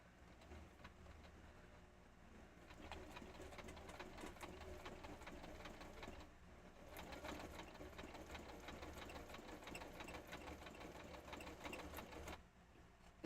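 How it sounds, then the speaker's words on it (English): A sewing machine stitching a scrapbook page runs in three steady, fairly quiet whirring bursts separated by brief pauses, close by with no talking. "I'm going to start my sewing right there"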